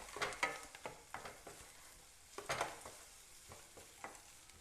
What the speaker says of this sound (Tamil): சேர்த்து எண்ணெயிலே நல்லா ஃப்ரை பண்ணிக்கோங்க